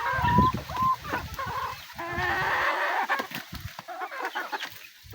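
Chickens cluck and squawk nearby in a busy, overlapping chorus, with a few higher cackles standing out.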